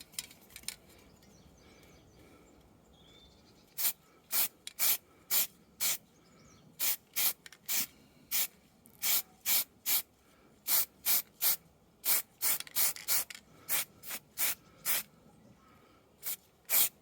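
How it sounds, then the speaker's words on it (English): A spray can gives short, sharp spritzes of white primer onto stalagmite models, roughly two dozen quick bursts in an uneven rhythm, close and loud over a quiet room. "And now we give them another little spritz,"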